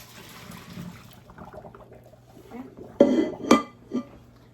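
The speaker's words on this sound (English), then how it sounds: "So now we'll finish draining our potatoes into the sink like normal." Water from boiled potatoes pours from a pan into a sink, a soft trickle followed by a few louder metallic knocks and clatters of the pot, fairly close, with no voices.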